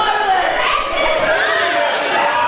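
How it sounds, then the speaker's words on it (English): Video game wrestling crowd in Texas roaring and chattering for their hometown wrestler, a dense continuous wash of voices under a commentator talking. "Crowd solidly behind their hometown hero here."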